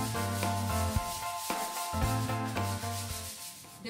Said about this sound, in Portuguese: O que eu esperei secar e agora eu vou lixar novamente